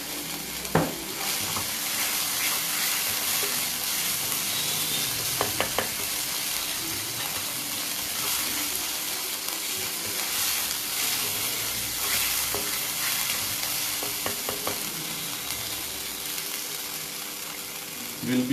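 Ginger and green chili paste fry in a pan with a steady close sizzle, broken by occasional scrapes and knocks of a stirring utensil.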